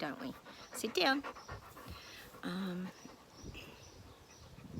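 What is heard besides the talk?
dog panting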